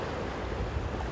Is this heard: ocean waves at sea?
yes